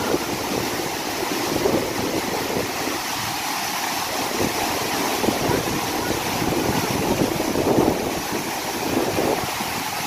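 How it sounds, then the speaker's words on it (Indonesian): Powerful roar of the Efrata waterfall in Samosir Regency, Indonesia, a dense, steady rushing wash of falling water with wind buffeting the microphone, continuous and loud throughout. "Dan ini asli ya teman-teman, air terjun Efrata berada di Kabupaten Samosir."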